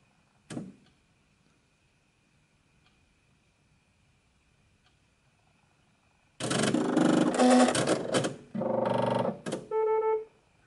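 Embroidery machine powering up and initialising, with a switch click, then loud mechanical whirring and buzzing bursts as parts move, ending in a short rising electronic beep sequence, close and without talk.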